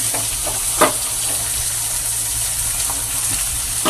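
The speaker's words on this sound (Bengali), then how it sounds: "ডিমটা ফাটিয়ে একটু নেড়ে নেবো" Cracked eggs and mashed tomatoes stirred in a frying pan, a continuous sizzling hiss with soft occasional scrapes of the spatula, close and steady.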